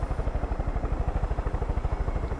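A helicopter in the video game Far Cry 5 thumps with fast, even rotor beats and a loud droning engine, close and steady for the whole stretch.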